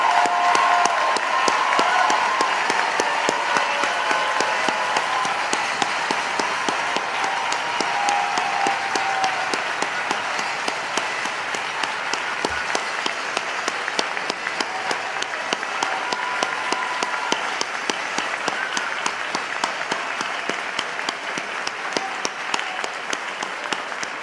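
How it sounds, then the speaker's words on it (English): A graduation ceremony audience applauds steadily, a broad, even wash of many hands clapping that carries on for over twenty seconds and slowly tapers slightly in loudness. "Let's give them an applause."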